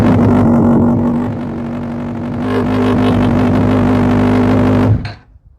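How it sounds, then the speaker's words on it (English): A 2007 Honda CBR1000RR sport bike engine idling loud and close with a steady droning hum and slight rises in revs, then cutting off abruptly at the end. "If I start the bike,"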